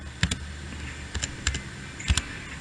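Keystrokes on a computer keyboard while entering a meeting appointment in a Gmail calendar, heard as a few sparse, soft clicks in small clusters against a quiet room background.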